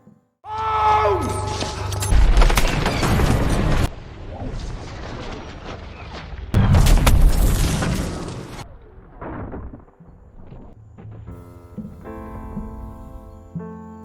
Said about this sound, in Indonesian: ternyata Dr. Watson kena ledakan yang sudah dipasang oleh Blackwood sebelumnya